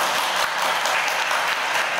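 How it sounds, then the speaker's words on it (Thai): Audience applause fills the room at a Thai book launch and panel talk, a dense, steady clapping from a crowd that holds loud and even throughout without voices on top. "ขอเสียงปรบมือครับ"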